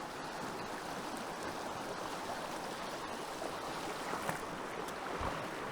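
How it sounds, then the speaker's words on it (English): A stream in high water rushes hard past a trout-fishing spot, a loud, steady broadband roar of churning flow with no break, and a couple of faint knocks near the end. "this stream here is flowing very hard, but it is improving."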